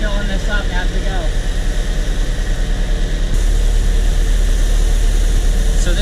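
A Saturn car engine idles with its AC compressor running, a steady low mechanical drone that steps up slightly in level partway through as the compressor load changes.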